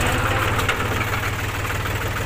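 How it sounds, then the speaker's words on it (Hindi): A tractor engine idles steadily, close and loud, with a low rhythmic chugging thrum and mechanical rattle throughout, no voices present. "सबसे पहले तो ट्रैक्टर को सीधा करना पड़ेगा इसके लिए।"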